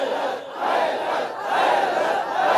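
A majlis audience chants slogans together in unison, a massed crowd of voices swelling and falling in rolling waves over a couple of seconds.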